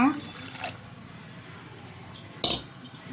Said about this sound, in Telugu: అలాగే ఒక గ్లాసు నీళ్లు పోసుకుంటున్నా.